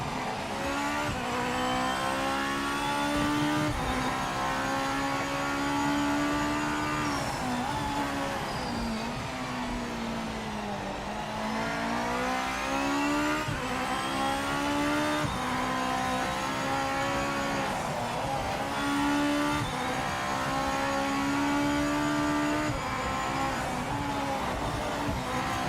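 A Nissan GT-R GT500 Evo race car in the racing game Project Motor Racing howls through its gears, a loud, harsh engine note rising and falling repeatedly with upshifts and downshifts over steady road roar.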